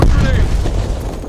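A grenade explodes in the video game Call of Duty Cold War, a loud booming burst that fills the short moment and fades out, with game announcer voices around it.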